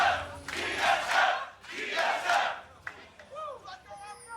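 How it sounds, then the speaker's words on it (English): A packed esports arena crowd at a League of Legends LCS match between TSM and OpTic Gaming chants loudly in two rhythmic surging bursts, close and full, fading into scattered shouts. "Familiar chants coming through once again."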